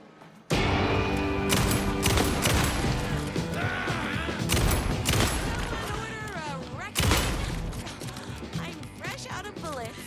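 Gunfire in the Alan Wake 2 video game during the Night Springs episode, a loud flurry of repeated shots and crashing impacts with sharp mechanical clatter, bursting in abruptly and continuing in uneven volleys.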